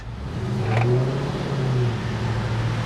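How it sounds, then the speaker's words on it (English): A bakkie spins its wheels with the engine revving, a loud steady roar that swells near the start and then holds under a constant hiss of tyre noise. "the Bakkie is wheel spinning a lot at the moment"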